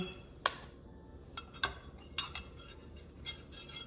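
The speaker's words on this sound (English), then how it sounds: "we're gonna start putting just a little bit of sauce here and just kind of spread it along the bottom of the bowl" A utensil spreads sauce along the bottom of a bowl: quiet scraping broken by four or five crisp clinks of metal on the dish, spaced irregularly and heard close up in a calm room.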